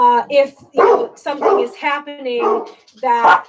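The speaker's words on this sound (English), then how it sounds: "sorry about the dogs, I may just close the door." Dogs indoors bark and yip in a quick run of about six sharp barks, loud and close, while a person keeps talking underneath them.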